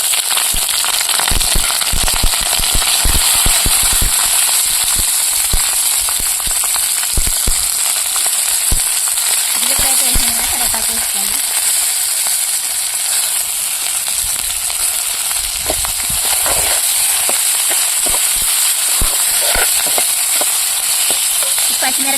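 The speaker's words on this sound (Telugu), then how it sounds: "నూనె బాగా కాగిన తర్వాత పచ్చిమిరపకాయలు జీలకర్ర కరివేపాకు అయితే వేపుకున్నాను" Green chilies, cumin seeds and curry leaves fry in hot oil for a Telugu mint roti chutney, giving a loud, steady crackling sizzle with sharp pops and spatters throughout, close up and without talk.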